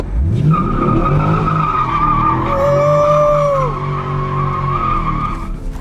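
A car engine roars and revs as tires squeal in a long skid on a circuit, loud and close, without any voices.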